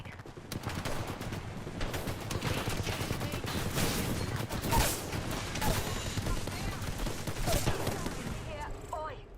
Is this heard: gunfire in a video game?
yes